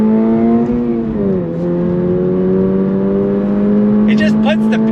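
Subaru BRZ tS sports car under throttle, its engine holding a steady, loud drone whose pitch dips briefly, then climbs gradually as the car accelerates, with a few faint squeaks near the end.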